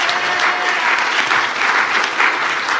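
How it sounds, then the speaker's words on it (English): A church congregation applauding together, a dense, loud, sustained wash of clapping that fills the space evenly throughout, with no speech over it. "Let's applaud ourselves."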